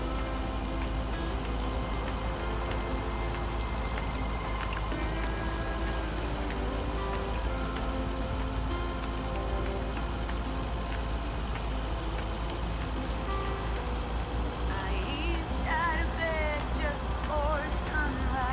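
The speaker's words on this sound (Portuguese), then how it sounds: "Vamos ver o barulho da chuva." Steady rain falls on surfaces in the video game Lake, a continuous close patter that holds through the whole stretch, with a voice speaking briefly over it near the end.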